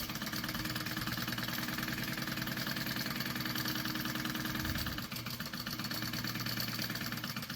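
A sewing machine stitching a pocket onto a backpack, running as a steady, rapid mechanical whir and chatter up close, briefly pausing near the end before resuming.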